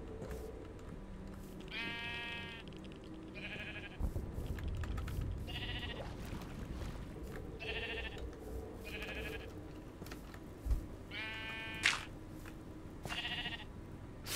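Sheep in Minecraft bleat about eight times in short, separate calls, spread irregularly over quiet game ambience and faint clicks. No one speaks.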